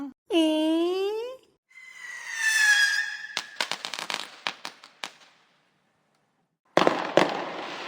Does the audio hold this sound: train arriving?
no